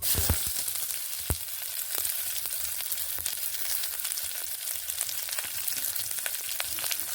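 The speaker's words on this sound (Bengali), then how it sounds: "নেড়ে নিচ্ছি এইভাবে নেড়ে নিচ্ছি" Broad beans fry in a pan with chili and black cumin, a steady close sizzle running throughout with scattered crackles and occasional scrapes and taps of a stirring spoon.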